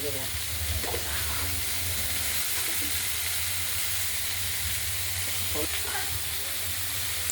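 Chopped ridge gourd sizzles steadily in a pan as its water cooks out, a continuous close frying hiss with a low hum beneath and a few faint clinks, before poppy-seed and green-chili paste goes in.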